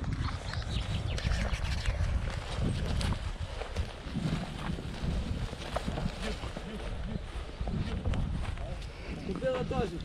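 A black draft horse works outdoors, its hooves clip-clopping steadily across the whole stretch beneath constant wind noise, with voices talking close by.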